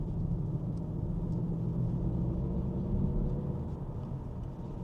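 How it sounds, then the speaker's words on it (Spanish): Artificial engine sound piped through the cabin speakers of a front-wheel-drive CUPRA Leon while driving, with wheels spinning, a steady, loud, low rumble that holds evenly throughout with no talking. "lo que suena no es el coche, no es el motor del coche, son los altavoces."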